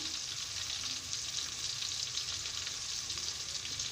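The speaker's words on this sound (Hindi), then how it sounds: "प्याज को हमें ब्राउन करना है, लाइट ब्राउन" Onions browning lightly in a pan with garam masala give a constant, even sizzle and hiss, moderately loud and close, with faint stirring underneath.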